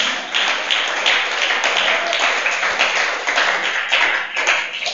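Thin, scattered clapping from a small lecture audience, with light hand claps pattering unevenly and fairly close for a few seconds.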